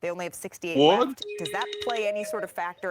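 A mobile phone notification chime, a short, clear electronic tone that rings out once mid-sentence during a sports talk show discussion of NBA award eligibility, heard beneath and between two people talking.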